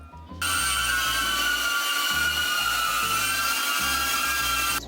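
A DJI Avata drone flies indoors, its propellers giving off a loud, high, steady whine. Under it, low motor tones step up and down with throttle changes and briefly drop out twice.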